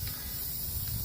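Plasti-dip sprays from a can in one short, close burst of dense, loud hissing that fills the whole brief moment.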